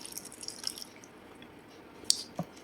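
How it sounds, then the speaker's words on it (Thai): Water is poured out into a tray while a Thai mushroom curry is being cooked, giving faint close drips and soft splashes, with two brighter splashes near the end and no talk. "เดี๋ยวเทน้ำเทน้ำก่อนนี่เธอ เทหมดในต้นถาด"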